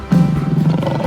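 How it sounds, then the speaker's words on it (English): A lion roars once, a loud, deep, rumbling call that holds steady for about a second, close and alone. "Lion."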